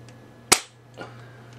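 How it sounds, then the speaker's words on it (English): A single sharp crack from a UTG GEN5 airsoft sniper rifle, close and loud, with a quick decay and a fainter knock just after, alone without talk. "Let me try shooting again angling the gun like I was."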